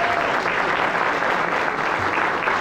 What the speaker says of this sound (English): You can give a better round of applause to our fire chief.